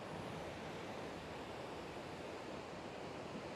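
Steady ocean surf at an oceanfront beach in Pacific Beach, a continuous broadband wash of waves rolling in without pause, fairly soft and even throughout with no voices.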